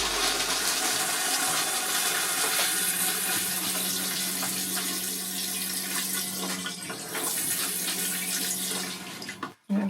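Water runs steadily from a faucet in a 2024 GeoPro 20BHS travel trailer during de-winterizing, a continuous close rushing flow that holds for several seconds before stopping abruptly near the end.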